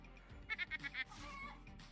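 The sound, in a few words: chicken clucking in video game Luck Be A Landlord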